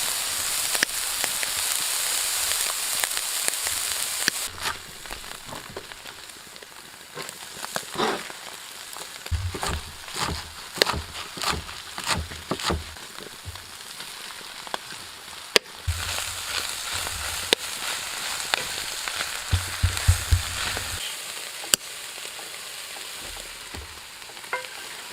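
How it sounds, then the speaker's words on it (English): Meat sizzles steadily in a pan over a stove while spruce tips are stirred in, with scraping and clinking of a utensil coming in short bursts over the continuous frying hiss. "I'm gonna add some of these spruce tips in there, give it a stir"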